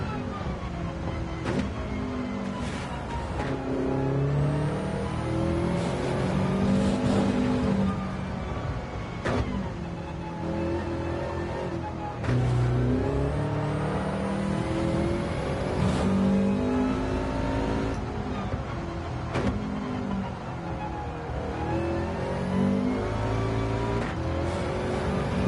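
Race car engine in Gran Turismo 7 at Fuji, loud and continuous, revving up and down through repeated gear changes with brief dips as the car slides through corners, with no talking.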